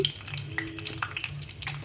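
Tempering seeds crackle and sizzle in hot oil for a curry, close and busy with quick pops over a steady fry, ending in a louder burst.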